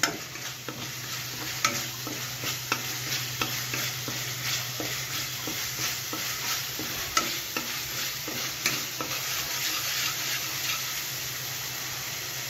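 Curd stirred into hot spiced oil in a pan for a mullet fish curry, giving a steady broadband sizzle with regular spoon scrapes and taps throughout, close and continuous with no talk.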